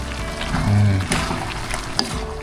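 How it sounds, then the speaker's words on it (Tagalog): Coconut milk poured into a cooking pot, a soft, close liquid pour with a low bubbling swell early on, then quieter stirring and handling sounds. "Maglagay na rin po tayo ng gata."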